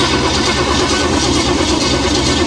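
A carbureted engine on its first start, powered by a very large battery, gives a loud, dense, continuous mechanical roar close to the microphone with no pauses.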